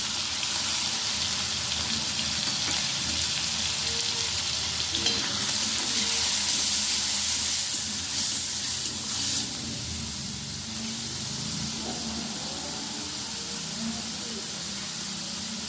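Onion paste and ginger-garlic paste hit the hot oil in a pan of fried potatoes, a steady broad sizzle that runs throughout with occasional stirring scrapes.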